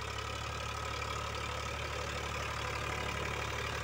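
An Eicher 551 tractor's engine idles steadily at close range, a constant low throbbing rumble with an even knock that holds at the same level throughout, with no voices.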